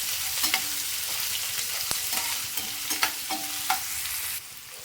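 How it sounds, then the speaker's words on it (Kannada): Chopped onions fry in a pan for bitter gourd gravy, a steady hiss broken by a few scraping stirs and light taps of a spoon against the pan, with no voices. "ಈಗ ಲೈಟಾಗಿ ಫ್ರೈ ಆಗ್ತಾ ಇದೆ ಆನಿಯನ್ಸ್."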